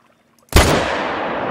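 A single loud rifle shot is fired at a Great One in the hunting game Call of the Wild, an abrupt close blast after near silence that leaves a long, heavy rolling echo.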